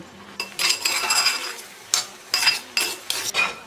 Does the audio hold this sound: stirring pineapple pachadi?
yes